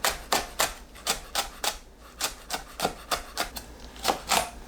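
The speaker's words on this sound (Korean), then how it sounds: "파는 반 가르고 작게 썰어서 준비합니다." A knife chopping halved green onion into small pieces on a cutting board, about sixteen crisp, evenly paced strokes, close and fairly quiet, with no talk.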